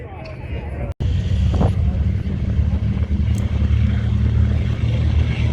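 A Douglas DC-3 (C-47) propeller plane takes off down the runway at an Owls Head, Maine air show, a loud continuous propeller-engine roar over crowd murmur.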